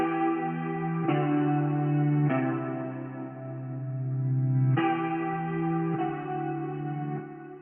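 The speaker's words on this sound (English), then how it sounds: "together with the guitar and the reverse guitar sample, it sounds like this" Sustained guitar chords swell and shift slowly, layered with a reversed guitar that blooms in backward with a washy, echoing texture.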